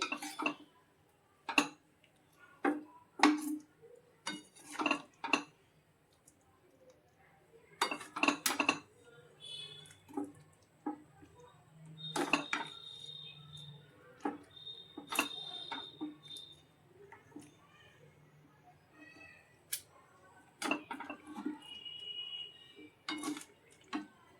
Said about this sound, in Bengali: এবার আমি বাটিতে তুলে নিচ্ছি